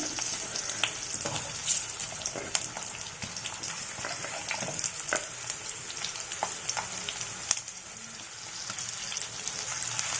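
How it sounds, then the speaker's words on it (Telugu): Three green chilies and large chunks of onion fry in hot oil for palak paneer, making a loud, steady close-up sizzle with scattered crackles and stirring scrapes, and no voices. "ఆయిల్ హీట్ అవుతుంది కదా, ఇప్పుడు దీంట్లో 3 పచ్చిమిర్చి, ఉల్లిపాయని పెద్ద ముక్కల కింద కట్ చేసుకుని వేసుకుంటున్నానండి"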